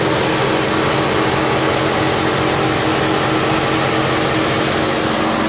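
A 2009 Buick Enclave's 3.6-liter direct-injection V6 idles in a steady, even hum heard up close, with constant hissing noise and no talking over it.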